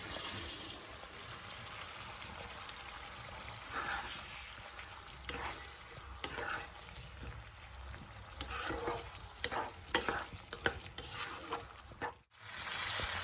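Chicken meat and potatoes fry and sizzle in a pan, a steady hiss broken by repeated scraping and clattering stirring strokes that grow busier toward the end, close by.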